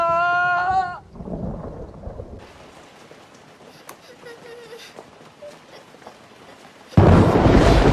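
Heavy rain pours during a thunderstorm in a scene from the Korean film Miracle in Cell No. 7, a steady wash of rain noise under faint voices, broken by a loud, sudden roar of thunder near the end.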